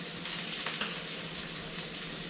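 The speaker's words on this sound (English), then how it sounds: "into a bowl of boiling water from the kettle. Just going to pour it over these tomatoes." Boiling water from a kettle pours over tomatoes in a bowl, a quiet, steady hissing splash that runs unbroken and alone.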